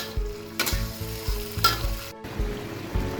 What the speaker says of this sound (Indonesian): Bumbu halus ini kita tumis sampai benar-benar tanak ya.